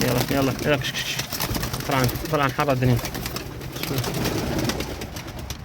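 Pigeons coo in repeated throaty, rolling phrases close by, while someone talks over them and then keeps talking after the cooing fades.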